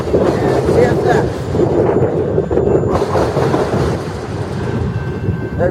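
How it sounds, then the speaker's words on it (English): A CSX freight train passing in Fostoria, a loud continuous rumble and rattle of the cars close by with a few faint high tones, and a voice briefly heard over it. "There goes that train with the Leslie horn"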